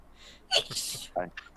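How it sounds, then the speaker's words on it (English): A single sharp human sneeze with a quick gasping intake, close and clear, followed by a brief vocal sound during a tabletop role-playing game session. "I don't mean to sneeze."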